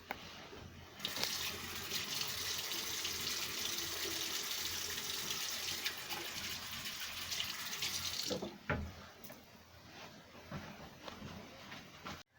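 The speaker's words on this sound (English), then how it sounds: "Now I'll be demonstrating a quick wash that people normally do throughout their day." Hands are washed under a running tap in a lab, the water gushing loudly and continuously for several seconds before it shuts off, leaving quieter handling sounds.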